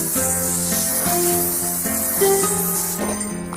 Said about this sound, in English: you're gonna take some parchment paper, put it on a cookie sheet, and you're gonna spray it down with non-stick spray